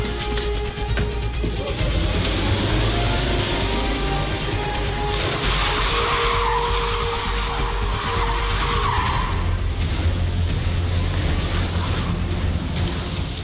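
A car pulling away hard with tires skidding during a security protection team training drill, a continuous loud roar of engine and tire noise filling the whole stretch, close by with no talking.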